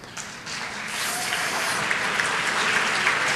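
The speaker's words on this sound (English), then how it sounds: "You can clap anytime you want." Audience applause at an awards ceremony for the National Book Awards, a sustained wash of clapping that swells after a softer start and holds full and close, with no talk.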